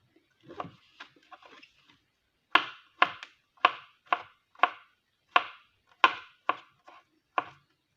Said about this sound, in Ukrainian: Шампіньони я також поріжу дрібним кубиком.